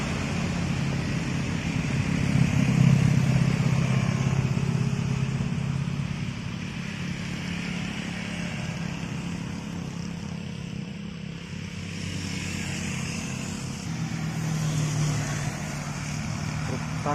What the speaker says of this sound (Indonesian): Truk tangki kembali menanjak, tancap gas.